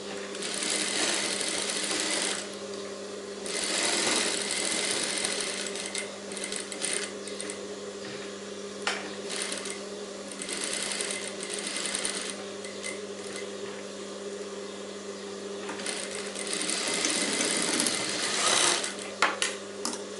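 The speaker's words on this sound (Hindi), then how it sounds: "वो अभी मैं सिलाई लगा के दिखाता हूँ कितनी नज़दीक है वो।" A sewing machine stitches the lining of a princess-cut blouse close to the canvas in steady, loud whirring runs that pause briefly and restart several times.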